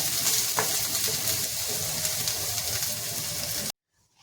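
Mint, with coriander nearby, being stirred in a pan for banana stem soup. A steady hiss of sizzling carries on with light stirring noises and then cuts off abruptly near the end.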